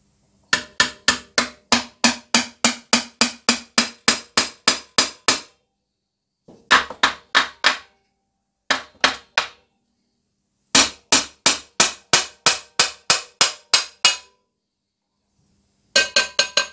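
Someone strikes a Briggs Series E engine with a hammer while taking it apart, producing loud, sharp metallic blows in fast regular bursts of about ten strikes each, separated by short pauses.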